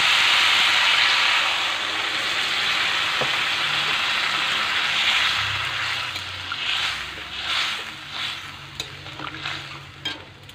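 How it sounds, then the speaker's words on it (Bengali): Spice paste hisses and sizzles loudly in a hot pan, then broth is poured in and the sharp fry gives way to softer bubbling and stirring scrapes, all close up. "দেখো মশলা ভাজা হয়ে গেছে, আমি এখন ঝোলটা দিয়ে দিচ্ছি"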